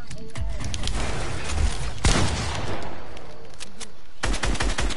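Rapid gunfire from a shooter video game, bursts of automatic fire crackling close and loud in several clusters, with a sharp heavy shot near the middle and another burst at the end.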